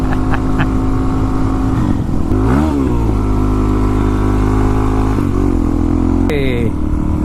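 Motorcycle in third gear at about 27 mph, accelerating at full throttle with the clutch slipped to lift a wheelie; a loud, close engine drone swells with rising rev sweeps throughout.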